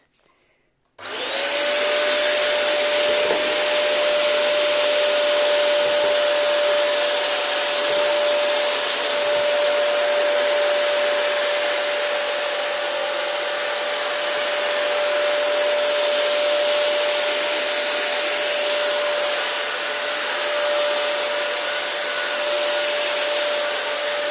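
A Bissell CrossWave wet-dry floor vacuum cleaner motor switches on abruptly and runs at a steady, loud, high-pitched whine for the whole stretch, with no voices.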